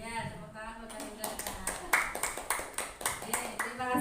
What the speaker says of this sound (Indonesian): tepuk tangan buat Pak Hendra